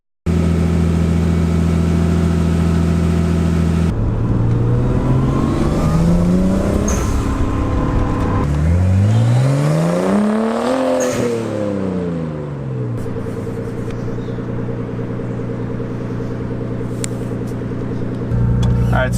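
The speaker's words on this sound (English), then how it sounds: "since it seems like the blow-off valve is actually working now, I'm going to throw the wheels back on and take it for a quick test drive" A Nissan S14 240SX with an RB25 engine and an HKS blow-off valve on a test drive: engine revving up and down through gears, with rising and falling pitch sweeps, heard from inside the car.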